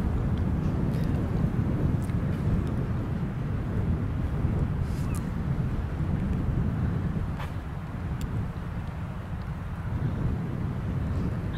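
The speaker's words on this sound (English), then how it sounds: "It's very cold and windy." Cold wind blows by a bay near a lighthouse, making a steady low rumble as it buffets the microphone, with faint background noise and no clear speech.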